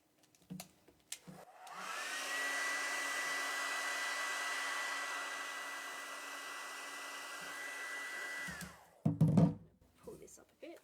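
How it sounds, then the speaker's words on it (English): A handheld hairdryer roars steadily for about seven seconds at moderate distance, with a smooth airy whine, switched on and off cleanly; brief talk and clunks come before and after it. "And then you get the hairdryer."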